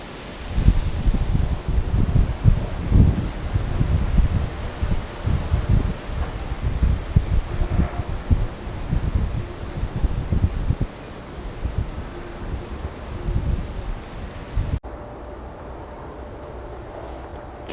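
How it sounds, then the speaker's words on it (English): Wind moving through mangrove trees on a boardwalk in Singapore, steady broadband rustling of leaves with gusty low rumble of breeze against the microphone, continuous and fairly close, easing to a softer hiss near the end. "watching the trees sway in the wind. It's quite a nice cool breeze actually"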